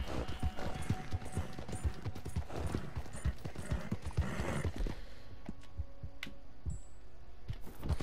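A horse gallops in the video game Red Dead Redemption 2, with rapid rhythmic hoofbeats close and loud for about five seconds, then slowing to scattered, lighter steps, and no talking.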